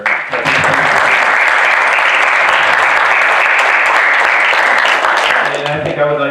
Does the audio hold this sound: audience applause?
yes